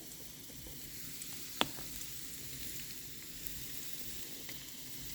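Onions and seasoning with cayenne pepper sizzling softly as they brown and caramelize in a pan for curry pumpkin, a quiet steady frying hiss with one sharp clink of a utensil against the pan.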